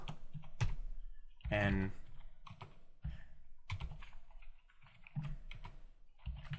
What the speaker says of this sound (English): Pardon my typing here.